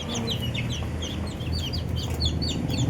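Several chickens cluck and chatter continuously nearby, their short clucks overlapping in a busy, steady stream.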